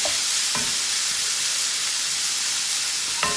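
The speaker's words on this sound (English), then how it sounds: "So look at this guy over here. It's sizzling." Steady, loud sizzling of green mung beans frying in a hot pan, a constant crackling hiss with a few faint clinks.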